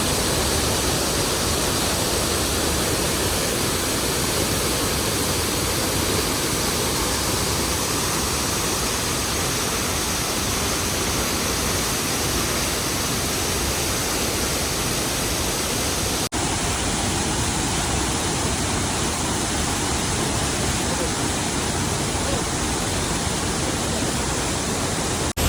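The waterfall at Kabbinale pours in a constant, loud rushing roar that never lets up, water crashing under high pressure with no voices present.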